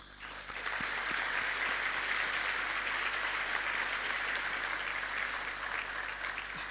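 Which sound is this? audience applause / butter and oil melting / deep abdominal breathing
audience applause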